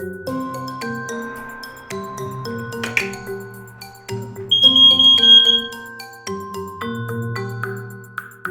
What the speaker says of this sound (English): Test your smoke alarms weekly.